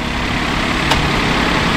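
A Nissan Dayz B21W car engine idles with a steady low rumble, close and continuous, with no voices.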